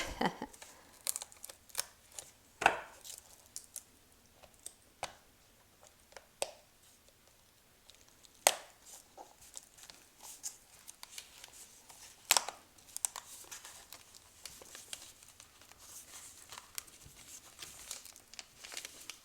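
A knife scrapes and peels the wax coating off an amaryllis bulb, giving quiet, irregular crinkling and tearing scrapes with a few sharper cracks spread through the stretch, close by and without talk.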